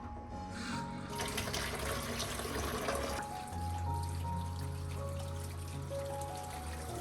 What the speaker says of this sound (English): After soaking, rinse the eggs thoroughly under running water with a clean cloth.